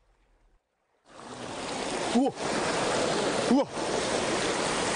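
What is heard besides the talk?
river stream water flowing while catching fish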